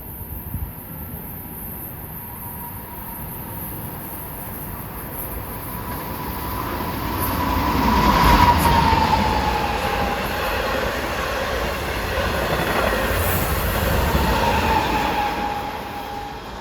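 A Long Island Rail Road dual-mode train, running between Southampton and Penn Station, passes through Forest Hills station during the morning rush. Its steady rumble builds to a loud peak midway, with a faint wheel squeal and clatter, then holds before easing.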